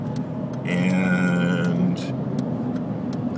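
Fast car traffic on highway 280, heard from inside a merging vehicle, makes a steady road rumble and whoosh under a passing tonal drone, with a person talking briefly.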